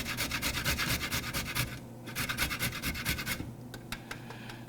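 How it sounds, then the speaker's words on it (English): A carrot is rubbed quickly against a box grater, making a rhythmic, scratchy rasp of repeated strokes with a short pause in the middle, close and fairly quiet. "just grate the carrot onto your bowl."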